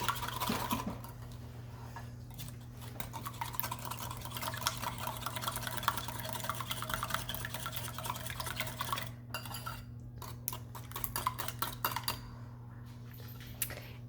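Ingredients for Hawaiian pupu chicken are mixed in a bowl, giving steady scraping and clinking of utensil against the bowl over a low constant hum, with no talking.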